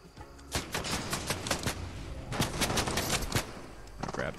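Rapid gunfire in the Fortnite video game, with bursts of close, loud shots over a steady background of game noise and no talking.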